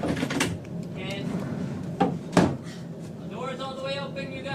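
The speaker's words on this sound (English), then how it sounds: "doors all the way open, you guys." Elevator doors on a film set sliding open, a couple of knocking thuds and a rolling rumble amid background movement, with people talking nearby.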